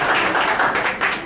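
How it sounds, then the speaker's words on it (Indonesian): Audience applause for Citra at a sales seminar, a short burst of dense clapping from a room of attendees, fairly loud and continuous. "tepuk tangan untuk Citra."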